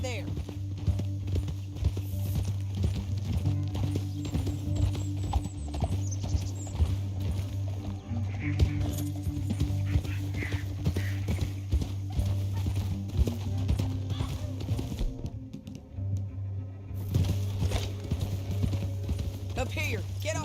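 Horse hooves clip-clop steadily in Red Dead Redemption 2 as riders travel through a canyon, a continuous rhythmic trot under a low droning music bed, with voices speaking over it.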